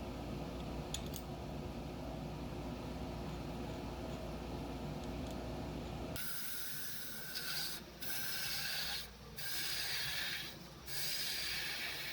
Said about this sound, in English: start shaping and sanding the top of it